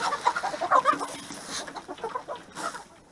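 Hungry backyard chickens clucking at morning feeding time, a busy cluster of close, overlapping clucks and squawks that tapers off, then a final burst.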